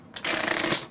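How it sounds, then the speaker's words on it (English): A deck of playing cards is riffle shuffled during a Three Card Monte tutorial, giving one quick, close, crisp burst of fluttering card snaps that lasts under a second. "I'm going to give the deck a few shuffles and maybe a few cuts."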